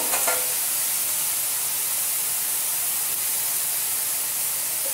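Mohana ladu dough fries and foams in hot oil, giving a steady, dense hiss of bubbling that stays even and close throughout, with no one talking.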